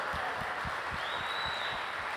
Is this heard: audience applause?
yes